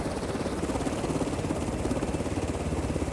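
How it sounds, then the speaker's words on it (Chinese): A helicopter on a supply airlift near Smangus, where a road and bridge were destroyed, gives off a steady pulsing rotor thrum with an even, rapid beat, moderately distant and constant throughout. "螺旋桨不断旋转，"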